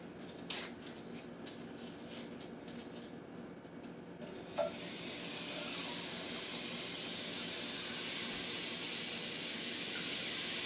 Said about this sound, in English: I got that butter melting over there